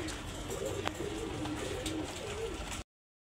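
Hungarian high flyer Budapest pigeons, a breeding pair kept with eggs at a pigeon seller's, give soft low cooing amid a steady background hiss, close by and with no talking.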